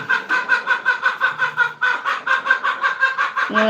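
Chickens cluck in a rapid, regular series of short pulses, fairly close and loud, for a few seconds with no talking.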